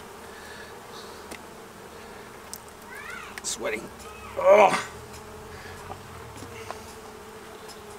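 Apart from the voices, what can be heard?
honey bees buzzing during honey harvest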